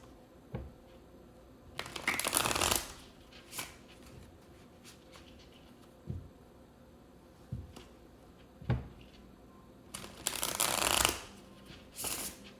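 Tarot cards shuffled by hand nearby, two longer riffling bursts at the start and near the end, with scattered soft card taps and slides in between, no talking.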